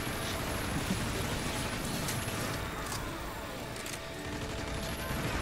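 Video game gunfire in Earth Defense Force 6, with rapid, dense bursts of shots crackling continuously over a busy backdrop of in-game effects, fairly loud and unbroken.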